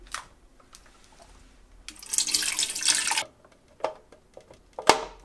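Water is poured into the reservoir of a Keurig K-Duo Plus coffee maker, a steady splashing pour of about a second and a half, followed by a few light, close drips and clinks.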